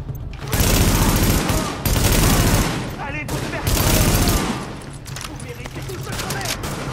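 Sustained automatic gunfire in The Division comes in three long, loud bursts of rapid shots separated by brief pauses, with quieter scattered fire and faint voices between bursts.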